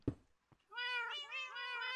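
Several cats meowing in Minecraft, a short thud and click first, then overlapping tonal meows that run on loud and continuous without pause, no voices.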